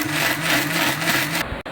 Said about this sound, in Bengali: এবার এগুলো সবগুলোকে আমরা একসাথে ভালোভাবে ব্লেন্ড করে নিব।